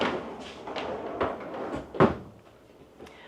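A table in a 2026 Brinkley Model I RV is lifted and slid into its track, giving a few soft knocks and sliding scrapes, with a sharper clunk about midway as it seats.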